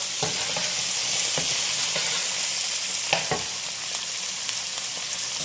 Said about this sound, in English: a little of this soy sauce to give my onions a little color. I'm gonna add my garlic.